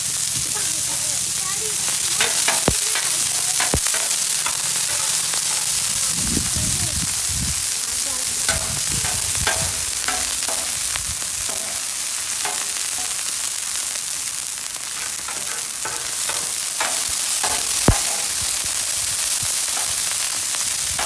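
Sliced peppers and onions fry in oil in a hot pan for cheesesteak, a loud, steady crackling sizzle with scattered sharp pops and occasional stirring scrapes, and no talking.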